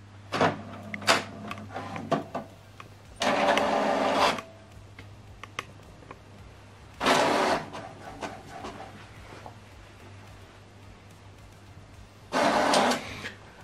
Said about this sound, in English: Now this document is going to print.